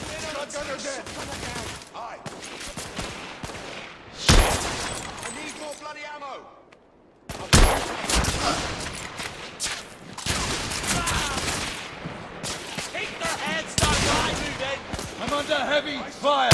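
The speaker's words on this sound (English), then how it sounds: "Under heavy fire!" Heavy gunfire from The Order 1886 video game during an airship battle, rapid loud bursts of shots and impacts that stop for about a second before resuming, with voices talking and shouting over the fighting.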